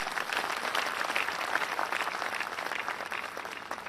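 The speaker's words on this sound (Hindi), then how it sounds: "एक बार जोरदार तालियां बजाएं।" An audience claps loudly and steadily at a live Hindi talk or stage event, a thick, continuous round that eases off slightly toward the end, with no voices on top.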